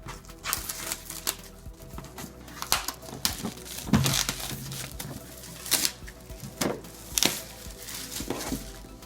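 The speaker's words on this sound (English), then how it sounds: "Let's rip this thing open." Cardboard packaging of a Small World board game expansion being torn and ripped open by hand, with irregular crinkling, tearing and snapping bursts close up and no talking.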